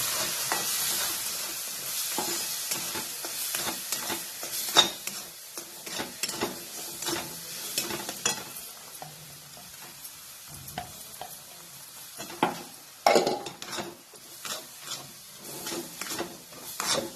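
A paste of ground coconut and milk is stirred in a frying pan for an Indian sweet, giving soft sizzling under repeated scraping and rubbing strokes of a spoon, uneven in rhythm, close and moderately quiet.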